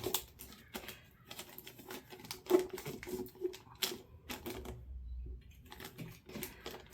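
Gift wrap paper being folded at the corners and taped down on a present, giving a series of close, crisp crinkles and soft taps in quick irregular bursts with short pauses, no voice.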